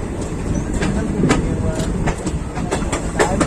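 An Intercity Express train running from Varanasi City to Gorakhpur in India, heard from inside the carriage as a loud, steady rumble with a rhythmic clickety-clack of wheels over rail joints.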